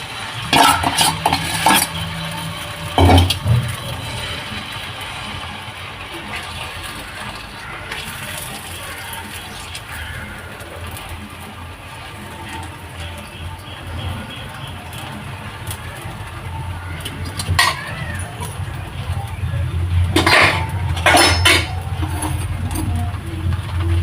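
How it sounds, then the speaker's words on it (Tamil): Wheat dosa batter is poured onto a hot pan and spread with a ladle, making soft scraping and stirring sounds with a few sharp metallic knocks against the pan. "இப்போ மாவு ஊற்றிடுவோம்."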